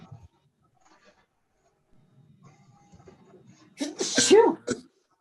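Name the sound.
sneeze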